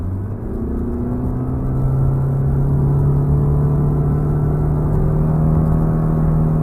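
A 2019 Honda Insight Hybrid Touring engine drones steadily and builds slightly in pitch and loudness as the car speeds up to pass a truck, a continuous interior hum with no talking.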